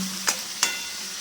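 Mutton curry stirred into its gravy in a pan, two quick scraping strokes against a soft sizzle, close and with no voices.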